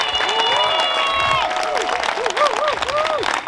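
A crowd at an outdoor Oaxacan community celebration applauds and cheers for a congresswoman, clapping steadily under a loud voice speaking over a microphone.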